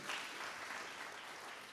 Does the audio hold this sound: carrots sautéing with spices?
no